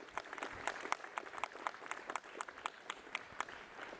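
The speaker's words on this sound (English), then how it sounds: "Let's give Event Productions a round of applause as well" An outdoor audience at a university ribbon-cutting ceremony gives steady, moderate applause, with distinct individual claps spread through the whole stretch and heard from a little distance.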